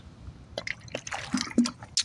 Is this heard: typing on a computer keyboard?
no